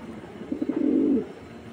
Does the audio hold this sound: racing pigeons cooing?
yes